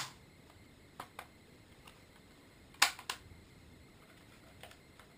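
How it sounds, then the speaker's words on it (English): A WE L85A2 gas blowback airsoft rifle gives a few sharp, isolated mechanical clicks as its bolt release is worked, quiet and close, with one louder snap in the middle. "Bolt release actually works on this."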